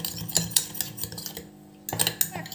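A spoon clinks and scrapes against a bowl while homemade face cream ingredients are mixed, in quick rhythmic strokes that stop briefly and then resume, close and clear.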